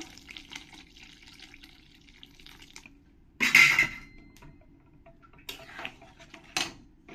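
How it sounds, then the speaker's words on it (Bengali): Water goes into a pot of masoor dal with green chillies, a short splashing pour in the middle with a few quieter splashes and clinks after, in an otherwise quiet kitchen. "এবার আমি এর মধ্যে দিয়ে দেব পরিমাণ মতন জল।"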